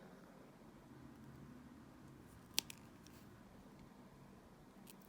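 A single sharp scissor snip cuts a tribal necklace cord just above a knot, one clear click followed by a faint second tick, otherwise a quiet room.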